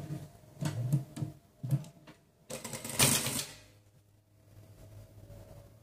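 A sewing machine with a presser foot stitching a folded seam on fabric, several short bursts of quick rattling stitches with pauses between, fairly close and quiet, no talking.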